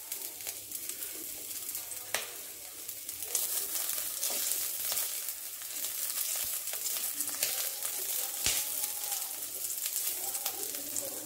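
Chopped green chillies sizzle in hot olive oil at the start of a chicken soup, a steady close frying hiss with a few soft stirring knocks and no talking.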